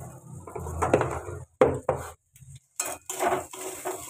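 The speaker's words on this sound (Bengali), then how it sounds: "নেড়ে নেবো" Curry with coriander leaves, cumin and coriander powder stirred in a pan, giving a run of close metal scrapes and clinks in short bursts with brief pauses between them.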